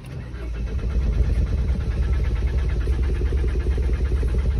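A car with its check engine light on starts up. The engine swells from a low rumble into a loud, steady, close idle that runs without pause and has no voices over it.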